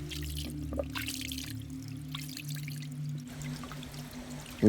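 Water flows from a freshly cleared spring in a Konkan forest, making a faint, continuous trickle and pour under a low steady hum, with a brief louder knock at the end.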